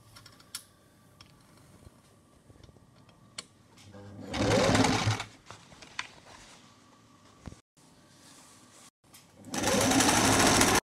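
A sewing machine runs in two loud stitching bursts while a long gown is sewn, with quiet ticking and handling of fabric between the runs.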